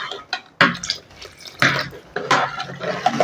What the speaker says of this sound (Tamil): தேவையான அளவு இந்த குழம்புக்கு தண்ணி ஊற்றிக்கலாம்